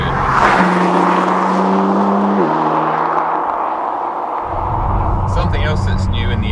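A BMW M4 Competition G82 engine in M mode, a steady droning exhaust note that holds and shifts in pitch, rising and falling before settling, with a voice faintly present.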